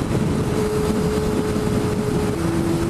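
A motorbike engine revs hard in sixth gear on a road, a continuous loud droning whine with wind rush, steady and close throughout.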